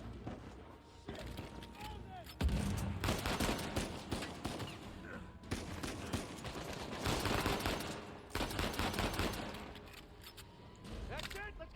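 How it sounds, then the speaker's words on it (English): Enemy gunfire in Uncharted 4 comes in bursts of rattling automatic shots of varying loudness, mixed with combat noise, while people talk over it. "He's still shooting."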